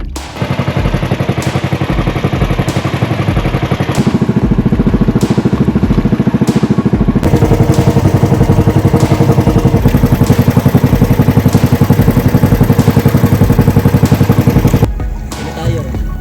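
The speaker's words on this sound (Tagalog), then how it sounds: "Ayun, hagong ng makina. Lakas ng makina." A boat engine on a squid-fishing trip at a river mouth hums loudly and steadily throughout, a close, rough mechanical drone with a rattling texture that runs nearly unbroken before easing near the end.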